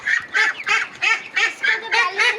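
Two pet ducks honk loudly and repeatedly, about eight harsh nasal calls in a quick, steady rhythm, close by and with no talking.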